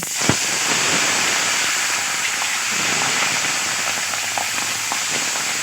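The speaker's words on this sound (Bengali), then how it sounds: "মাছগুলো ভালো করে ভেজে নেব।" Fish frying in hot mustard oil gives a steady, broad hiss and crackle from start to finish, with one sharp pop near the beginning and small spatters scattered throughout, close and fairly loud.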